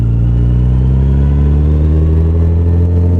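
A Yamaha FJR 1300 motorcycle engine drones loud and close while riding, a steady low rumble with a slowly rising pitch as it revs, heard alone.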